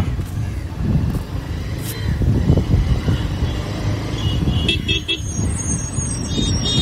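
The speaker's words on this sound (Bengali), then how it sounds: "জ্যামের রাস্তায় এত পরিমাণ জ্যাম থাকলে বাইক রাইড করা খুবই কষ্ট হয়ে যাচ্ছে" Congested road in a tourist area packed with auto-rickshaws and vans, heard from a motorbike: a dense rumble of idling and moving engines with short horn toots and background voices.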